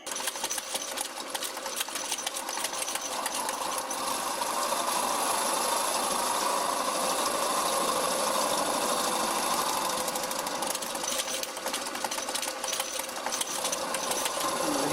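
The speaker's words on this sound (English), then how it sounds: "now we're gonna switch to the boring bar. We'll see how this works." A wood lathe spins while a boring bar hollows a bowl, giving a steady, loud whirring hum with a continuous rubbing hiss of the bar against the wood throughout, and no voices.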